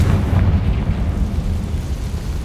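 A Confringo blasting spell bursts in Hogwarts Legacy, a dense, roaring explosion with heavy low rumble that fills the whole moment and stays loud throughout, no voices present.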